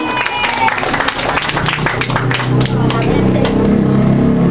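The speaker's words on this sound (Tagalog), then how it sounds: "Bigyan naman po natin ng maraming palakpak si Sir Henrito." Audience applause in a hall at a client testimony competition semi-final, dense clapping mixed with crowd noise and cheering voices, sustained and loud throughout.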